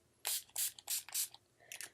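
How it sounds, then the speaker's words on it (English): NYX primer spray misted onto a face in four quick hissing bursts with brief gaps, then a shorter fifth spritz, close and fairly soft in a quiet room. "I'm just going to prime with my NYX primer spray real quick"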